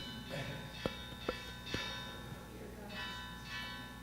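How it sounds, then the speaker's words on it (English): A lunch bell strikes three times in quick succession, each ring a sharp, bright clang that hangs briefly over a quiet hall during a Buddhist teaching on the Majjhima Nikaya, with faint room tone between strikes. "That's the lunch bell."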